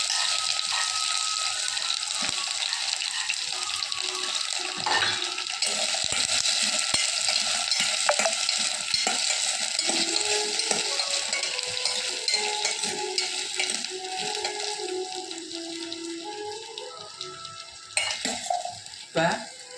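Chopped vegetables stirred and sautéed in hot oil in a home kitchen pan, a steady close sizzle running throughout with scraping spoon strokes and clinks, no voices.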